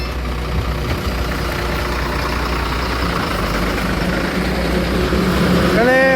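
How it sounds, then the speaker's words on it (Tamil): A truck with a freshly changed clutch assembly idles after being started, a steady low diesel rumble running throughout with a slight rise near the end, while a voice speaks faintly beneath it. "ஓகே மக்களே வேலை முடிஞ்சுது வண்டி ஸ்டார்ட் பண்ணியாச்சு"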